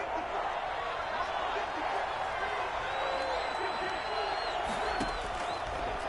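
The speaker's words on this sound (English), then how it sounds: "The crowd getting into it as we come up on a big 3rd down." Football stadium crowd in Madden 21 on PS5, a constant moderate roar of cheering and murmur that holds evenly under the scene, with faint whistle-like tones rising partway through.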